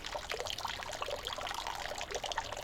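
Water trickling slowly from a repaired spring in the wild, a soft, continuous babble of small splashes and drips, faint and close, with no voices.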